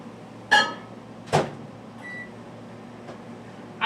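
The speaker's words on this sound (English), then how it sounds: "Let's throw this in the microwave and get it going here." A 700-watt microwave oven is loaded and started: two sharp thumps of the door and handling, a short electronic beep, then a steady low running hum.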